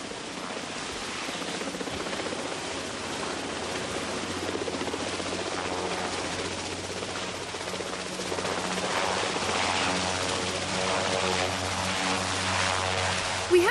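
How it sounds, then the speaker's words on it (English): A helicopter's steady rotor thump and turbine whine, loud and continuous, with a low drone holding throughout as it sets down nearby in the car park at the front of BBC Television Centre in 1979. "the first time a chopper had landed in the VIP car park at the front of TV Centre"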